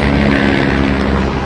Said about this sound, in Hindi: हेलीकॉप्टर की सेवा भी होती है यहाँ पे।